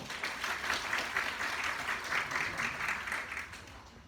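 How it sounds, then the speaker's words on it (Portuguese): A small audience at a presentation skills workshop breaks into applause, an even patter of clapping at moderate distance, fairly quiet and continuous with no voices over it. "Ok, palmas para quem ficou."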